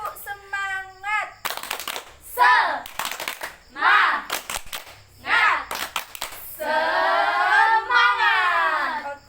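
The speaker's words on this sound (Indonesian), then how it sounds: "Ayo, 1, 2, 3. Tepuk semangat." A group does a rhythmic spirit clap, sharp bursts of hand claps alternating with short chanted vocal phrases, ending in a longer sung shout with clapping.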